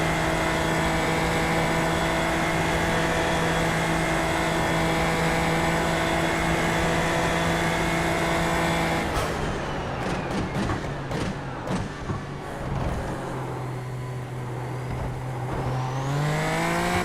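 Race cars in a racing video game at Spa drone steadily at high revs, engines layered together, then a flurry of gear shifts and engine notes changing as other cars close in, with a pitch rising near the end.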